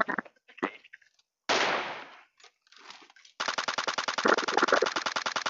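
Gunfire in PUBG Mobile zombie mode: a few isolated sharp shots and a burst early on, then a sustained rapid automatic volley of evenly spaced cracks running to the end, loud and close.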